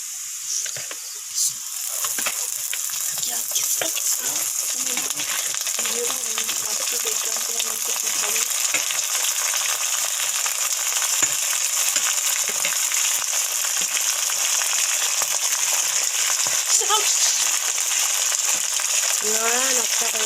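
Masala fries in a hot wok for a duck meat curry, a loud, continuous sizzle close by with occasional stirring scrapes.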